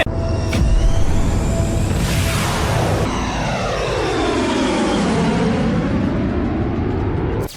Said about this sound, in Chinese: 乘坐空天飞机进太空的事儿，我可不能错过。